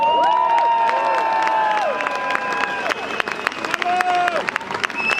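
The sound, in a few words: audience applauding and cheering at live carnival show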